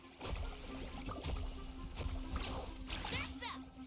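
Water splashes steadily as a character rides and carves across waves in the Genshin Impact video game, with a player talking over the continuous sloshing.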